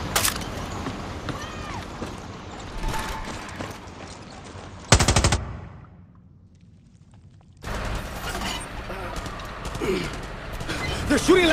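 Enemy gunfire in Far Cry 6: bursts of automatic fire and single shots rattle loudly through most of the stretch, with a brief near-silent lull midway before the shooting resumes, heavy and dense, with game voices mixed in.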